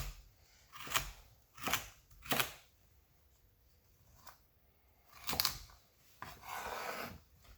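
Scallions being sliced about 1/4 inch thick for Jamaican stew peas, heard as several distinct knife chops and crunches in quick bursts, then a longer rasping cut, close and fairly quiet with no talk.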